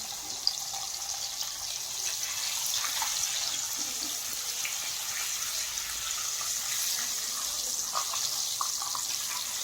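Butter melting in hot oil on a medium flame: a continuous, soft, hissing sizzle with faint crackles holds steady throughout, with no speech.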